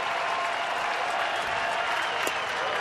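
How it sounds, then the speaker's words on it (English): A large baseball crowd of about 17,000 applauds steadily at a 2009 Tampa Bay at Baltimore game, a dense, even wash of clapping and cheering filling the whole stretch without a break. "They are up and applauding."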